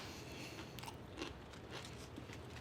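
Close, crisp biting and chewing of a crunchy rotisserie chicken lunch, steady crunching mastication throughout with no talking.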